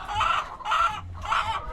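Three loud, evenly spaced bursts of sick hens clucking, close by, with no voices over them.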